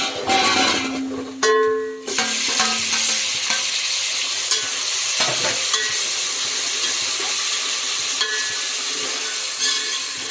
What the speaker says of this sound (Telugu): ఆనియన్స్ దోరగా వేగాయి కదండి. ఇప్పుడు బాగా వేగిన తర్వాత టమాటాలు తరిగిన టమాటాలు